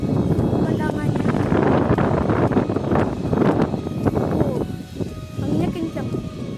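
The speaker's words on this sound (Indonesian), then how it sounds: "Anginnya kencang." Strong wind on a hilltop summit roars and buffets the microphone continuously, a loud, rumbling rush with faint voices beneath it.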